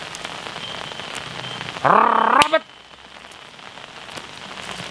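Steady rain pours down outdoors in an Indonesian village setting, a continuous hiss broken briefly by a loud tonal burst and a short spoken word.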